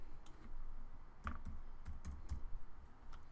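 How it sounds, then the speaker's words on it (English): Keys on a computer keyboard are tapped in a short, uneven burst of close clicks over a soft background hiss, with no talking. "I'm going to type in"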